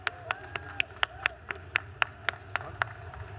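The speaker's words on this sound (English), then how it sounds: "Give them a big round of applause." An audience at a gaming expo stage event claps for presenters of a live PS4 gameplay demo, with a steady rhythm of fairly close, distinct handclaps and a faint crowd murmur behind them.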